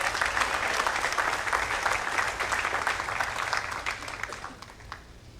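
A church congregation at a Baptist service applauds, a thick burst of many hands clapping close and loud, then thinning and fading out toward the end with no talking.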